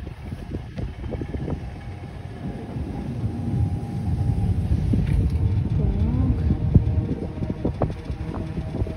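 An ET2M electric train passes at a station, a steady rolling rumble of wheels and motors that grows louder midway, with people talking nearby.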